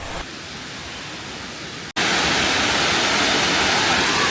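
Steady, dense roar of rushing water from the Cascades waterfall at Fall Creek Falls, above a gorge near a swinging bridge, broken by a brief cut before the roar returns louder and fuller.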